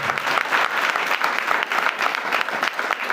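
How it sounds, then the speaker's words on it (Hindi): A church congregation claps together in thanks to God, dense, loud, sustained applause from many hands with a steady fluttering texture and no break. "ताली बजाकर प्रभु को धन्यवाद"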